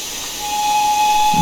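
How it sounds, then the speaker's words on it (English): A steam locomotive whistle from an LMS 2F 0-6-0T tank engine in Train Simulator Classic sounds as one steady, sustained tone over a hissing steam background, swelling slightly louder as it goes. "the spacebar plays different whistle tunes"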